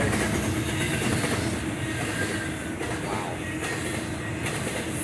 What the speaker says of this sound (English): This train is going fast. And it's very long.